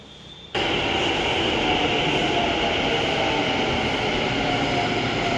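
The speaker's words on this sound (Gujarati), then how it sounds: "ફાઇનલી હવે આ ટ્રેનમાં અમે બધા જઈશું છેક યુનિવર્સિટી" A metro train rolls loudly through an Ahmedabad station after a sudden onset, with steady broadband rumble, rail roar and a faint high whine throughout, close and continuous.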